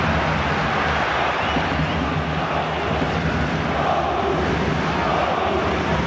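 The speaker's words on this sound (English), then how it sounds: "that effort has certainly inspired the crowd, because they've gone up a gear a little, with their sound" A football stadium crowd roars steadily at Dortmund versus Arsenal in a 2002/03 Champions League match, a dense, loud and continuous wash of cheering and chanting with no breaks.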